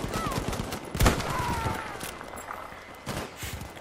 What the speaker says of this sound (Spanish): Alguien de allá nos está disparando.